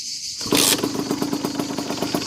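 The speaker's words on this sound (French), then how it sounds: "c'est le bruit de la moto, le démarrage." A Beta Track RR 50 motorcycle (2018) cranks and fires up after a brief silence, then settles into a loud, steady, pulsing idle close by.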